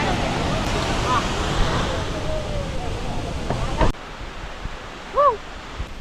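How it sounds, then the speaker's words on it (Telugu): Athirappilly Falls rushes in a loud, broad, constant roar that drops abruptly to a quieter background, where faint voices and brief tonal sounds appear. "అదిగో వాటర్ ఫాల్."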